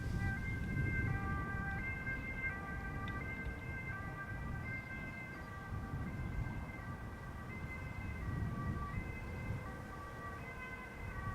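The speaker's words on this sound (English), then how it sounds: "Also hearing a siren." An ambulance siren wails near Schiphol Airport, a steady repeating two-tone pattern heard at a moderate distance over a low outdoor rumble, with no talking.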